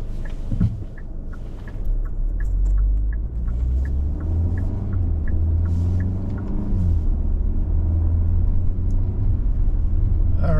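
A 2022 Kia K5 GT Line driving, with a steady low engine and road rumble heard from inside the cabin that rises slightly as it accelerates, plus faint rhythmic ticking.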